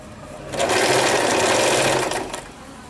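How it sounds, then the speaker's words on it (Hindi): A sewing machine runs in one steady burst of about a second and a half, stitching an invisible zip into a lehenga. The whirring motor is close and loud and plays alone, then stops. "जहाँ तक हमने मार्किंग की थी वहाँ तक हम सिलाई कर लेंगे।"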